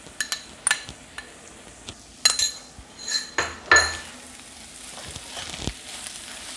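Boiled, crumbled minced beef tipped into a hot pan, giving a few sharp clinks of a spoon and pan at the start, then a low steady sizzle that carries on quietly to the end.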